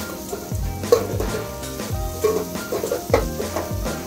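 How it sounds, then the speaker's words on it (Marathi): Biryani masala sautés in oil, a moderate sizzle under repeated low scraping strokes of a spatula against the pan, recorded close up with no speech. "आता हे चांगलं परतून घेतलं मसाला ह्या तेलात।"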